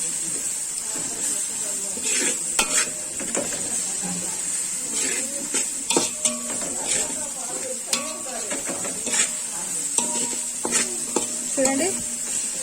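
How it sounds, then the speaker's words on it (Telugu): Ginger garlic paste deep fries in a pan for mutton biryani, a bright steady sizzle with repeated metallic stirring scrapes and clinks, close and fairly loud, no talking over it. "చూడండి, అల్లం వెల్లుల్లి పేస్ట్ బాగా డీప్ ఫ్రై అయింది"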